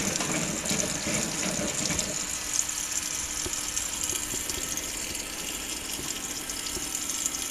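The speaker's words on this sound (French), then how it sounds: "remplissage continu pendant toute la durée de ce premier rinçage" A Brandt 532 Super washing machine takes in water steadily during its first rinse, a continuous hissing rush of filling that holds at a moderate, even level throughout with faint mechanical ticks underneath.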